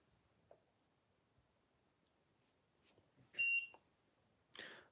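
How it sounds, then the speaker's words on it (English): A DIY kit's soldering iron signals it has reached temperature with a short, faint electronic beep near the middle, surrounded by quiet room noise and small clicks. "beep, the iron is ready."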